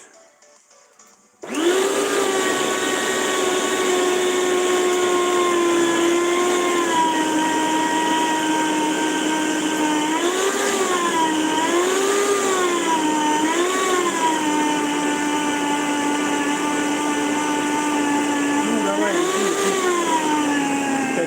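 An electric juicer whines steadily while squeezing ginger, a loud close motor drone starting abruptly and holding on, its pitch dipping and wavering repeatedly as the root presses against it.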